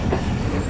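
A train rolls into a railway station on the Narowal to Sialkot line after dark, giving a brief, steady, loud rumble of wheels and carriages with no voices.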